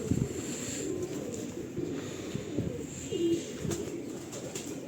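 Pigeons coo softly in a loft, with low, murmuring calls repeating over a hum of background noise, fairly close but not loud.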